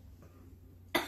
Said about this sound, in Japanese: 咳が出そう、ちょっと咳が止まらなくなるからちょっと終わっていいですか